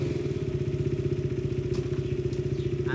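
A motorcycle engine running close by, a fast, even low thrum with a clattering pulse, steady and loud for the whole stretch.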